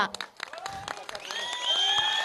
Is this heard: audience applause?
yes